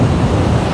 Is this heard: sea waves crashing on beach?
yes